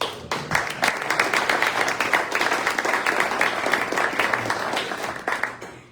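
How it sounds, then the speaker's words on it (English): An audience at a Rotary gathering claps steadily, a dense, sustained round of applause that stays fairly loud for several seconds and fades slightly at the end. "please give a round of applause"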